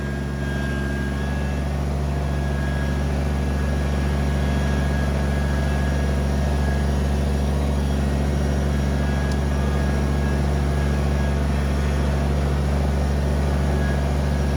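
A Kubota BX23s compact tractor runs steadily while backfilling a large hole left from tree removal, a constant low engine drone with a steady hum throughout and no talk.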